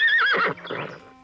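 A horse whinnies close by in a 1979 Don Quixote adaptation, a loud high neigh that wavers and fades into a softer snort and shuffling.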